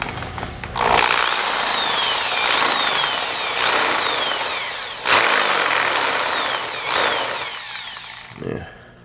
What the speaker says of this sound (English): So I've just got a 3/8 inch drill bit, which pretty much is just about the right size for the hole.